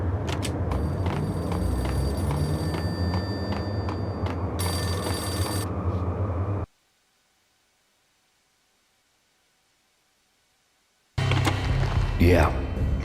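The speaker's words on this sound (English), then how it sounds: "A payphone started to ring." A payphone rings in the video game Max Payne, a loud electric bell over noisy game ambience, then cuts to silence for several seconds before sound resumes with a voice speaking.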